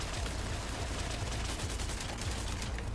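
Gunshots in Resident Evil 4 Remake, a dense run of repeated sharp shots and impacts over a constant noisy game background, with no pauses.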